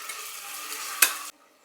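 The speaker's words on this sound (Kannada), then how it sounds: "ಇವಾಗ ನಾನು ಶುಂಠಿ ಬೆಳ್ಳುಳ್ಳಿ ಪೇಸ್ಟ್ ತೊಗೊಂಡಿದ್ದೆ ಹಾಕ್ತಾಯಿದ್ದೀನಿ." Ginger garlic paste sizzles steadily in a hot pan for a vegetable pulao, with one sharp clink of a stirring utensil just before the frying hiss cuts off.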